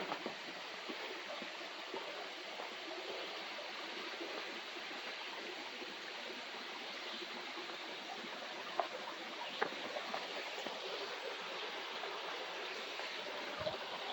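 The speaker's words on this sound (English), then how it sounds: "You can hear some of the water running." A creek runs over small rock falls along a forest trail, giving a steady, soft rushing and splashing of water that continues without interruption throughout.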